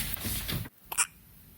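A newborn baby boy gives a single sharp hiccup near the end, after a stretch of louder background noise that cuts off into quiet.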